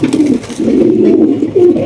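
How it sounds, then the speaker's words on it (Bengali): A pair of racing pigeons coo with low, throaty rolling calls in continuous close bursts, loud and near. "রয়েছে একজোড়া রেসার কবুতর"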